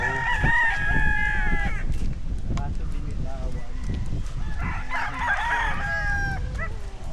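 Several roosters crow in long, strained calls at a gamecock farm in Pila, Laguna, one near and loud, others overlapping, over steady background chatter and crowd noise.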